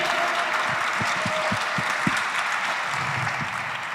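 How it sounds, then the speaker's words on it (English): Audience applause at a Warsaw technology conference stage, a steady dense wash of many hands clapping at once, sustained and fairly loud throughout with some low thumps underneath. "Guys, give them a round of applause, please."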